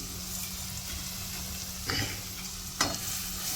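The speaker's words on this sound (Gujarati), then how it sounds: "આ રીતે તેલમાં અને બટરમાં આ છે પકાવવાની." Red garlic chutney with Kashmiri chili powder cooks in oil and butter, giving a steady soft sizzle with two brief stirring scrapes, close and fairly quiet, no voices.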